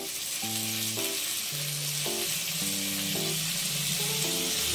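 Paneer roll vegetable filling cooking in a pan with half a teaspoon of ghee, giving a dense steady sizzle under a melodic tonal background, with no speech.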